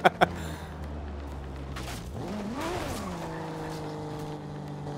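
A race car in Forza Horizon roars with a rising then falling engine sweep and tyre squeal, loud and close, after two sharp clicks at the start, with little else beneath.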